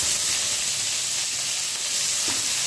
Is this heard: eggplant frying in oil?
yes